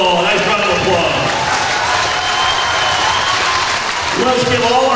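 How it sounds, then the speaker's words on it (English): A crowd applauds senior boys basketball players during a ceremony at a school basketball game, a steady, loud wash of clapping and cheering with voices mixed in throughout. "Let's give our boys basketball a nice round of applause."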